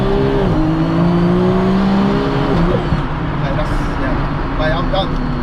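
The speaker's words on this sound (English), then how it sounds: "I've just driven a 700 brake horsepower single turbo DCT dual clutch Supra Mark 4" A 700 hp single-turbo Toyota Supra MK4 with a dual-clutch DCT gearbox drives hard, its loud engine note holding steady then dropping at a shift before climbing again, with continuous road roar and wind noise throughout.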